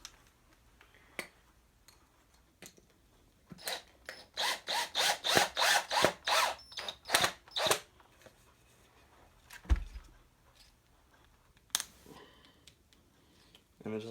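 A power drill drives a mini spike into an airsoft loadout stand in a string of short whirring bursts, loud and close, followed by a few scattered clicks and knocks. Faint talk sits around the drilling.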